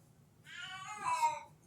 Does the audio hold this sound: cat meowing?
yes